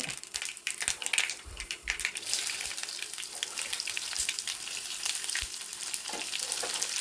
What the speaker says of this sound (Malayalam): കടുക് പൊട്ടി വരുമ്പോൾ ഒന്ന് കുറച്ച് കറിവേപ്പിലയും കൂടെ ഇട്ട് കൊടുക്കുന്നുണ്ട്